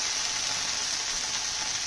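Chicken sticks fry on a flat griddle, a dense, steady hiss of sizzling oil with no talk over it, continuous and fairly loud throughout.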